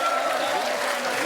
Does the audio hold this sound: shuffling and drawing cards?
no